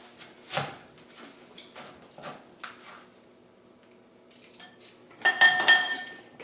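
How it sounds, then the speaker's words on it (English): Knife clicking and scraping against a plate while coring a green apple in a kitchen, a string of light taps, then a brief louder clatter of utensils near the end. "Just going to take out the core."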